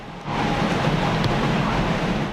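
Powerful waves crash along the shore during Super Typhoon Saola in Hong Kong, a loud broad roar of surf and wind rising after a brief quiet start and staying dense to the end.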